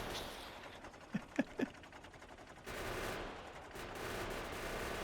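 A tank's machine gun fires in the video game Factorio. There are a few short, sharp bursts of shots, then a steady mechanical rumble, all at fairly low volume with no talking.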